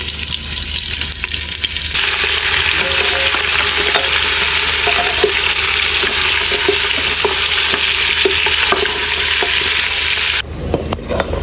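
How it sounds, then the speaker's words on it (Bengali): Ingredients for Peshwari beef frying in ghee in a pressure cooker give a loud, steady sizzle with scraping stirs throughout, and no one speaks. "আগে এগুলো আমি সব সুন্দর করে আগে ভাজবো"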